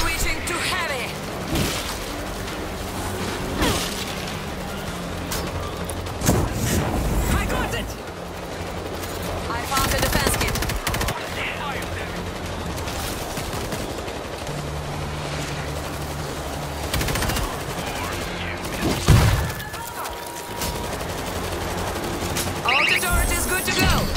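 Sustained heavy-weapon gunfire from the World War Z Aftermath zombie shooter, dense bursts and booms rolling on almost continuously with brief gaps, loud and close, with game voices calling out over it.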